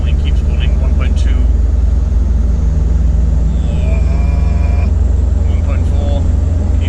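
A Land Rover Discovery 2 with a VNT turbo and Stage 3 remap pulls up a steep hill in fourth gear, its engine a steady, continuous drone from start to finish while someone talks over it.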